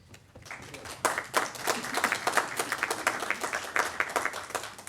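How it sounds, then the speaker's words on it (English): A crowd at a tech meetup book signing applauds steadily for several seconds, a dense patter of many hands clapping at once, fairly close and loud. "round of applause for them"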